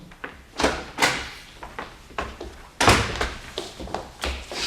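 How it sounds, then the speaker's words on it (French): A door being opened indoors, heard as a series of close knocks, thuds and rattling handling sounds spread through the moment rather than one clean swing. "allez-y, ouvrez la porte"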